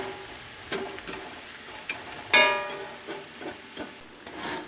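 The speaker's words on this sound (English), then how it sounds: "she sauteed these. The onions are translucent." Onions and mushrooms sautéing in a pan for an egg scramble, with a steady soft sizzle, occasional louder crackles and a few sharp clinks of a utensil against the pan. No one speaks.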